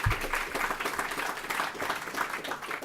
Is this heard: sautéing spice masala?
no